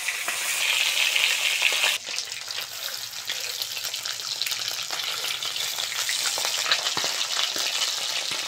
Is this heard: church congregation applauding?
no